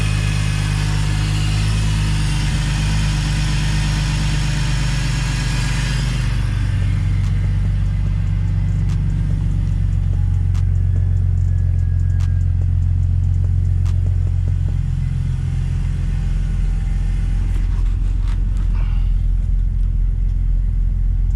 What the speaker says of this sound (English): Really smooth engine.